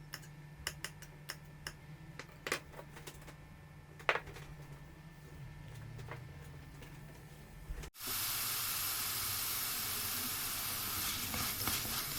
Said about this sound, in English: while the mushrooms are sauteing on the low heat